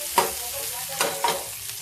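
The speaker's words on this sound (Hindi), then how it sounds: "जीरा के साथ ही गया प्याज" Onion frying with cumin in a pan for a green pea curry, a steady close sizzle broken by a few stirring scrapes, with no talking.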